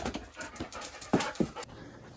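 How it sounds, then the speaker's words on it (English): A puppy pants in quick breathy bursts with a couple of brief whimpers, close and fairly quiet, no talking. "Hey, puppy. How you doing, puppy?"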